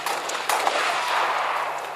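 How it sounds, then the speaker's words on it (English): Rapid gunfire in a Halo SWAT free-for-all match, a loud, dense burst of shots blending into a continuous roar for two seconds, with no talk. "I can't even tell fucking who's shooting me, who I'm shooting."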